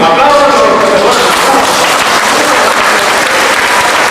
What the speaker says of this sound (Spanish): ¡Aplausos a los que se duermen!